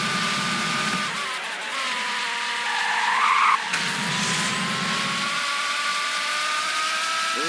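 A Roblox racing car takes a corner at close to 200 mph, its engine droning loud and steady with high whining tones and a brief tire squeal in the middle, the pitch climbing near the end.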